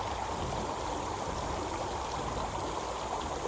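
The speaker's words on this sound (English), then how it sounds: "I'm going to start walking across this little creek" A small creek flows steadily, a continuous close wash of running water with no pauses and no voices.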